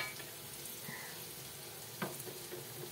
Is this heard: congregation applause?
no